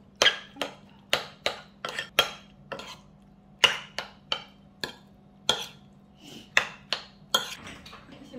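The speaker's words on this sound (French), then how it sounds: "Je mélange." A utensil mixes food seasoned with sesame oil in a bowl, producing a steady series of sharp clinks and taps, about two per second, close and fairly quiet, with no voices.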